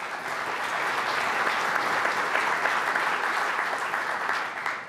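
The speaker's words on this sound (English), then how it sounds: "a big round of applause for these guys" Audience at a business expo applauds, a full, even wash of clapping that holds steady for several seconds with no talk over it.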